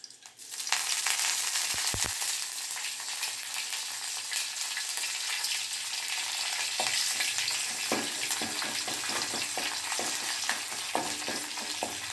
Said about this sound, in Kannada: ಸಾಸಿವೆ ಸಿಡಿಯೋಕ್ಕೆ ಶುರು ಆಗ್ತಿದೆ.